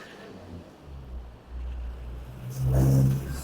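On the Karakoram Highway in the early morning, a single vehicle approaches from the Gilgit and Chilas side, a faint engine rumble under wind that builds into a louder pass near the end.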